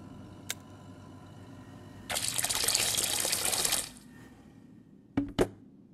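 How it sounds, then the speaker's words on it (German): In a hidden-object video game, an undeveloped photo is dropped into water, giving a short, lone swishing splash of about two seconds, followed by a couple of faint clicks. "Jetzt muss ich das unentwickelte Foto ins Wasser legen."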